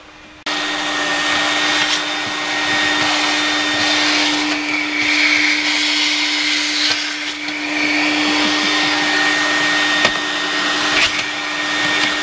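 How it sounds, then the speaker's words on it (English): A vacuum cleaner switches on and runs steadily for several seconds inside a car, a loud close whine with shifting tone as the nozzle moves, no voices. "Are we going to vacuum this sucker?"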